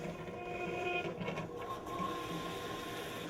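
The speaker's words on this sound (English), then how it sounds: "Flip the toggle switch on the front of the machine up to start the pump." A Pitco P14 fryer filter machine pump runs as a steady, continuous mechanical drone with a faint tonal whine, near and unbroken from start to finish, with no talking.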